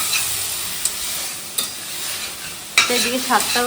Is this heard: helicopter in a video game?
no